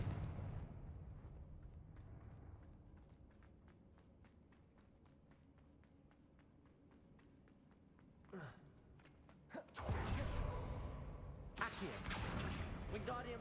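A Confringo explosion spell goes off in the Hogwarts Legacy video game: a sudden loud, broad blast that roars on for several seconds after a stretch of quieter rhythmic ticking and game ambience.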